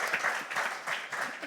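A brief burst of audience clapping for a professor at a music symposium, moderately faint and fairly steady for a second and a half.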